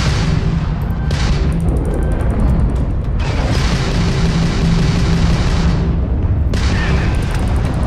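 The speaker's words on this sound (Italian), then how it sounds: "Target lock, ok, gli posso lanciare i missili." Heavy booming missile explosions in the space game Starfield, a dense, loud, continuous rumble with repeated surges of blast noise throughout.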